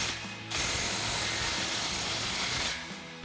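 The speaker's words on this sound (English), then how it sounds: "Now we can come back and snug our muffler inlet clamp down again with our 16 mil socket." A socket ratchet tightens a muffler inlet clamp on a Ford F-150 EcoBoost exhaust, giving one short burst of rapid close clicking that stops abruptly, with quiet workshop background around it.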